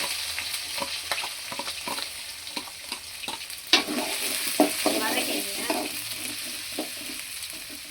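Garlic and fenugreek seeds frying in hot oil for a lentil dumpling curry, a steady close sizzle and crackle with occasional spoon clinks as it is stirred, a voice talking faintly underneath.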